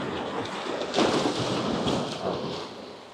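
Waves roll in at Bias Tugel Beach in Bali, a secluded, rocky cove, as a loud, continuous rushing wash that surges once and then stays as a steady roar close by.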